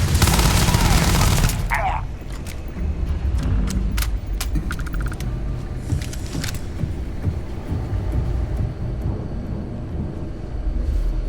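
Sci-fi gunfire in Starfield opens with a dense, loud burst of shots, then sharp intermittent shots and impacts continue over ongoing combat noise. Voices shout briefly in between.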